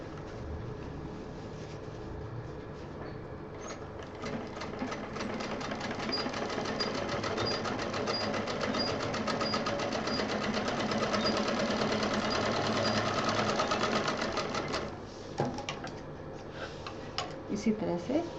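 A sewing machine runs a double line of stitching along a zipper on a DIY stylish pouch, whirring steadily with rapid ticking. It pauses briefly near the end and starts again, with a voice speaking quietly in the background.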